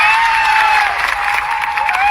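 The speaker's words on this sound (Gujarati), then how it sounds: "આનંદભાઈ પટેલ સાહેબ માટે જોરદાર તાળીઓ પાડીએ" Audience clapping for Anandbhai Patel at a political gathering in Netrang, a dense, steady burst of crowd applause carrying at full volume, with a sustained tone running beneath it.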